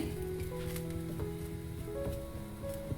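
Ragi paratha on a hot pan with oil added around it, giving a steady, close sizzle with small crackling pops and faint tonal hums in the background.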